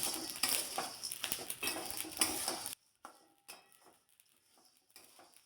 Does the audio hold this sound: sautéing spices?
yes